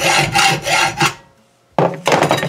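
A saw cuts through a piece of a GPS mount for a Can-Am in a few close, rasping back-and-forth strokes, pauses briefly, then resumes sawing.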